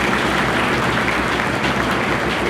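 An audience applauds at a formal investiture ceremony, a loud, dense, continuous wash of many hands clapping that holds steady throughout without any speech.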